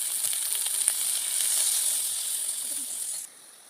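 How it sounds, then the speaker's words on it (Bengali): Coconut milk poured into a hot pan of cooked-down spice paste for egg korma sets off a bright, continuous hissing sizzle that swells slightly, then drops away abruptly to near quiet. "এখন আমি এদিকে দিয়ে দেবো নারকেলের দুধ।"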